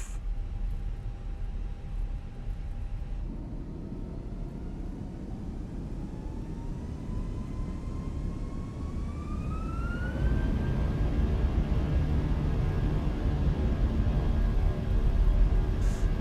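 Airliner engines spool up for takeoff in Microsoft Flight Simulator, a Fenix A320 with IAE engines: a steady broadband roar with a tonal whine rising in pitch, growing louder after about ten seconds and holding at high thrust.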